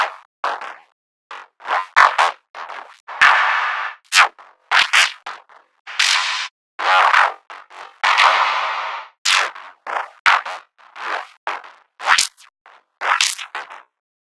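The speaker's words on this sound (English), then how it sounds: "the last sound I'm going to talk about is this Neuro Bass 2" Neuro bass synth patch for drum and bass, loud and close, played as a rapid choppy sequence of short snarling, growling bursts separated by sharp cuts, with no talk.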